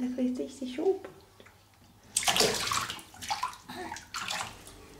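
Water sloshes and splashes in a tub as a three-month-old baby is bathed, coming in bursts after some soft talk, with adults speaking nearby.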